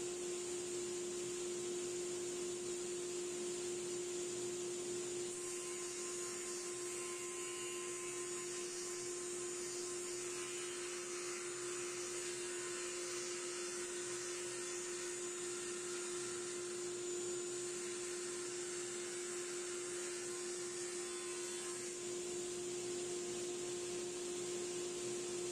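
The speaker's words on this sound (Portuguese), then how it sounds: "como a serra é top, eu cortei a parte faceada para baixo, que não arrebentou nada também" Steady, continuous whine of a power saw cutting wooden drawer fronts for a bed with drawers, a constant tonal motor hum with faint shifts in texture as the blade works, heard alone throughout.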